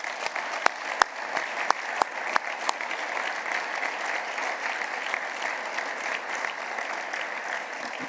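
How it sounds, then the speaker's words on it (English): Applause from the assembled delegates at an equestrian federation general assembly fills the hall steadily throughout, with a few sharper, closer claps standing out near the start. "I would like to ask you for an applause for what he did."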